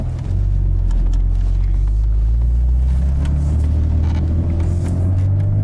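A Porsche engine during sporty driving, a loud steady low rumble with a sustained rev and a slight rise in pitch, heard alone throughout.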